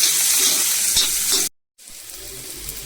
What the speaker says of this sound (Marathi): तवा तापलाय, तेल टाकलंय, आता कांदा टाकते। कांदा चांगला भाजू दे।